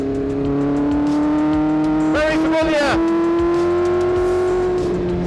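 Vintage race car with a Ford engine driving, its steady engine drone shifting pitch with a brief rev burst mid-way, loud and close, with someone talking over it.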